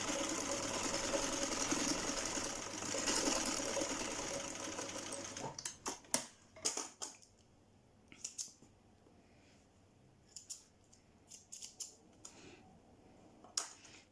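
A sewing machine stitches slowly around the curved seams of a pair of trousers, running steadily for about five seconds, then giving several short, quiet bursts and clicks with pauses between them.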